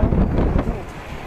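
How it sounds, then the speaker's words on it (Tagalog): Wind buffets the microphone while riding from Caloocan to Obando through Malolos, Bulacan, making a steady low rumble with gusty roar across the whole stretch and no clear speech. "mahangin, no?"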